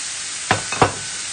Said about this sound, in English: All right, wine's going in.